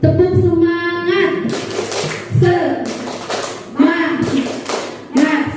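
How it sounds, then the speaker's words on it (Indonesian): Group rhythmic clapping for a tepuk semangat clap routine at a school gathering, several loud bursts in a patterned beat, with voices chanting along between the claps. "Tepuk semangat."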